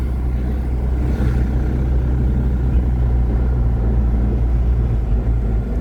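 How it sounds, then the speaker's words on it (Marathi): Steady low engine rumble of traffic at a city bus depot fills the scene, loud and continuous, with no distinct voices. "हे बघा हा सर्व सिटी बसचा डेपो आहे"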